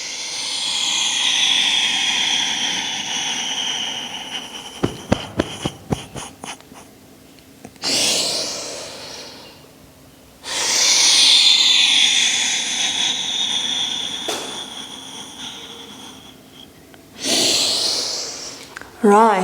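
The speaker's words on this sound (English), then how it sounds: "inhale and up and exhale through the nose" Forceful exhales through the nose during a breathing exercise, several long, loud, hissing breaths separated by quiet gaps, with a quick burst of short sniffs midway and a voice talking at times.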